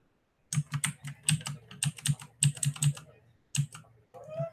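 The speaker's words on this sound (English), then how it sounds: "I'm going to type the link here for you guys too" Computer keyboard typing, a quick run of close, clicky keystrokes in uneven bursts with a short pause before a final few taps.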